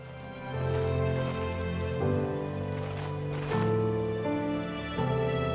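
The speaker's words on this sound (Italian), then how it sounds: "Il rumore della pioggia è bellissimo, ragazzi." Rain falls steadily in the video game The First Tree, a close, continuous patter layered under a soft tonal music bed with sustained chords that shift every second or two, no voices present.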